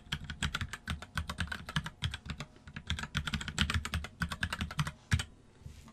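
A password being typed on a computer keyboard during server setup: rapid, close, crisp keystrokes in quick bursts with brief pauses, continuous for several seconds with no talking.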